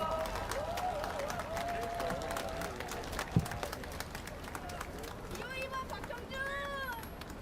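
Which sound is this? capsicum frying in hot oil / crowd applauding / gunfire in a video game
crowd applauding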